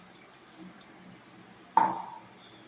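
Water poured into a heated pan makes a sudden sharp hiss and sizzle that swells and fades over about half a second, following a quiet, faint tick.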